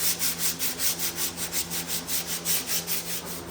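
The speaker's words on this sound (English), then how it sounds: "the most exciting woodworking activity is sanding" Rhythmic wood sanding on a handmade walking cane, a steady back-and-forth rubbing with about a dozen even strokes, close and moderately loud, with no voices.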